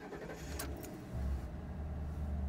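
Inside a Ford Crown Victoria, a key jingles and clicks in the ignition, then the engine turns over and settles into a low, steady idle rumble, heard close and with no talking.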